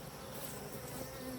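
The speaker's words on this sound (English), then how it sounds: "there were a lot of bees that got in here because everything got so chaotic" Honey bees buzz after a chaotic hive harvest, a faint continuous droning hum of many insects close by with no talk.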